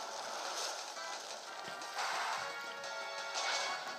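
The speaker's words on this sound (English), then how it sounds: "and I go for the Flare Blitz." A Flare Blitz attack effect from a Pokémon battle game: a burst of fiery, crashing noise with a couple of sharp impacts, fairly faint and steady over a few seconds, with no talk.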